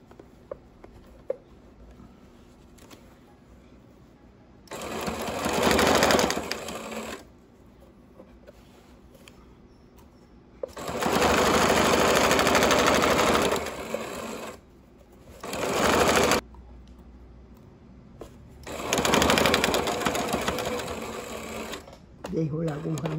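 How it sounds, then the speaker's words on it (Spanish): A sewing machine stitching a pocket on a pair of shorts runs in four loud close bursts of rapid whirring, separated by quiet pauses with faint handling noises. "Estoy cosiendo el otro bolsillo."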